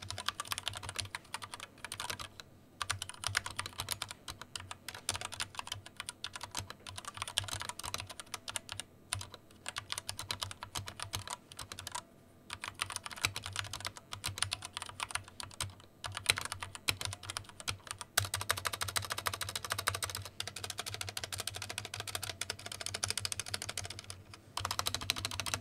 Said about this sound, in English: you'll get a bit of a better sound and feel out of typing on this board